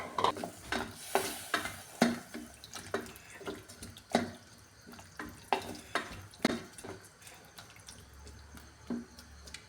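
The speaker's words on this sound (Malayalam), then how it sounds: "തേങ്ങയുടെ രണ്ടാം പാല് അത് ഞാൻ ഇതിൽ ഒഴിച്ചു കൊടുക്കുകയാണ്" Second coconut milk poured into sautéed vegetables for a vegetable curry served with palappam, with repeated clinks of a spoon against the pan and soft sizzling and bubbling underneath.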